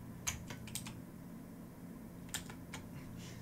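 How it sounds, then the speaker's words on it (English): Mechanical keyboard with loud Cherry MX Blue switches, heard as scattered sharp clicky keystrokes in small bursts over a steady low fan hum, fairly faint and close. "Sounds like Cherry Blue Keys, man. God, they're loud."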